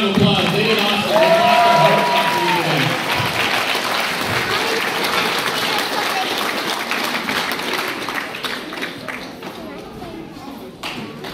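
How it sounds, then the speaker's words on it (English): Audience at a sparring event applauding the fighters, broad crowd clapping and noise that is loudest at the start and gradually thins and fades, with some voices mixed in. "let's give these fighters one more round of applause"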